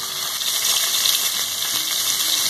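Pieces of chicken searing in a hot pan for a dish served with polenta and ora-pro-nóbis, giving a steady, loud, close sizzle that runs without a break and with no talk.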